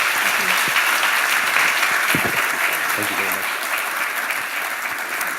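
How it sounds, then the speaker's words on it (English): A room full of people applauds the Minister at the launch of an enterprise and entrepreneur series, steady dense clapping throughout while a voice speaks briefly over it. "Let's give him a warm round of applause"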